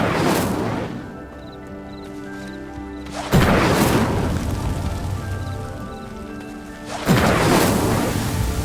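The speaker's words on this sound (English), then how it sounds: "Clearly, all three of these pyres are meant to be lit. Incendio!" In Hogwarts Legacy, the Incendio spell lights stone pyres: sudden whooshing bursts of flame catch one after another and crackle on in the background.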